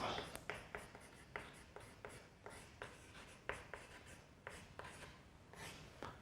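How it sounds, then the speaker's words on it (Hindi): Quick chalk or pen strokes scratch across a board during a Hindi-language Class 12 physics lecture on nuclei, a rapid series of sharp taps and scrapes in an otherwise quiet room. "चलिए अब लिखते हैं औसत आयु।"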